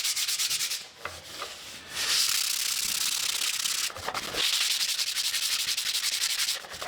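A wooden anvil stand has its high spots sanded smooth with steady, close abrasive rubbing strokes that continue almost without a break, with a couple of short dips between passes.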